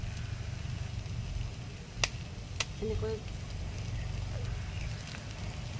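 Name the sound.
stirring and frying sonaru (golden shower) flowers in a pan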